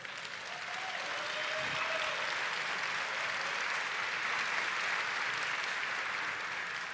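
An audience at an event applauds, steady, dense clapping that fills the room at moderate level, with a faint voice briefly heard near the start.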